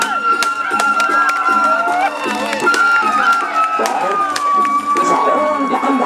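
Crowd of supporters cheering and shouting at a peresean stick-fighting bout in Lombok, a loud, continuous outdoor roar with whistles and an announcer talking over it.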